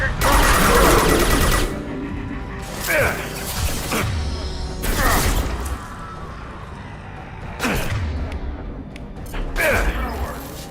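Gunfire in Mass Effect 2 Legendary Edition, loud repeated bursts and mechanical clatter in several waves with short lulls between, close and dominant.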